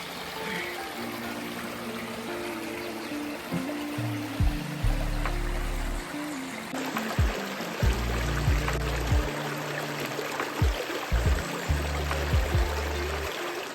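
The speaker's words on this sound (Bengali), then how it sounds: "আপনারা হয়তো পানির শব্দও শুনতে পাচ্ছেন" Natural stream beside a hotel in Sreemangal, a continuous wash of flowing water with scattered low thumps and rumbles mixed in.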